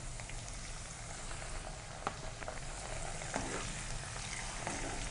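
Green chilli, cumin seeds and curry leaves sputter in hot oil for tempering sabudana khichdi, a steady close sizzle with scattered small pops throughout.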